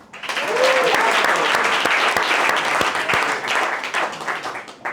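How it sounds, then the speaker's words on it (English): Audience applause at a community event, a dense steady wash of many hands clapping close up, swelling quickly and holding before tapering slightly, with a brief voice over it early on. "claps"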